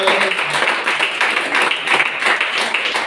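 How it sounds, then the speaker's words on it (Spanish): A church congregation clapping together, a brisk, fairly loud patter of many hands that stays steady throughout. "Dale un fuerte aplauso al Señor."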